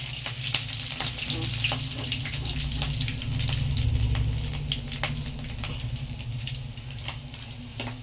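Crab frying in hot oil, a steady broadband sizzle running throughout at moderate level with little variation, a slight swell in the middle; no one speaks.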